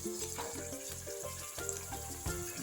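Ground tomato masala sizzles as it hits hot oil with fried ivy gourd in a pan: a steady, close, crackling fry with faint stirring scrapes and no talking.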